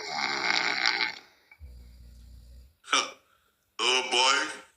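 A woman asleep snores in one low, buzzy drawn-out rasp, set between bursts of louder voices talking nearby.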